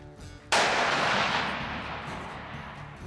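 A single loud rifle shot fired while testing a scope setup outdoors, a sharp crack followed by a long rolling echo that slowly fades.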